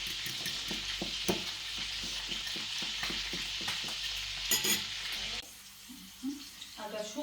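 Potatoes and chicken fry in a pan, a continuous close sizzle with regular scraping stirs and clinks, then quieter toward the end as a voice speaks and a child can be heard.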